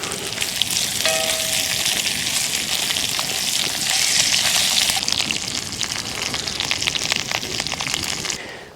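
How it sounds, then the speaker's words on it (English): Potatoes cooking in a lidded pot over a campfire at a dry winter camp, giving a steady, close, rushing hiss of bubbling and sizzling that swells slightly midway, with no talking. "potatoes are cooking up very well right now"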